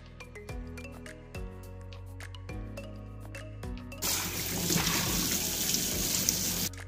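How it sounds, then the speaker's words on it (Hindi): Water runs and trickles from a tap while a lunch box and bottle are washed, with soft clinks and knocks of the containers early on, then a louder, steadier stream of running water near the end. "आते ही मैं हाथ मुंह सब धोकर बैग से अपना लंच बॉक्स और बॉटल निकाल के वॉश करती हूँ।"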